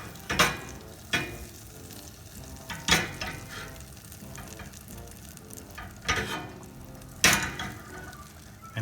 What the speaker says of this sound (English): we're going to take 2 tablespoons of butter. Okay, let it melt